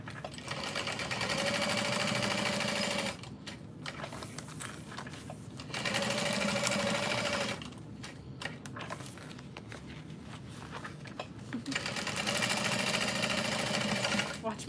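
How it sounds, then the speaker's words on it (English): A sewing machine stitches a U-shaped seam on a backpack side pocket in three sustained runs of steady whirring motor noise, separated by pauses, with a person talking throughout. "you're just gonna sew that around in a U shape"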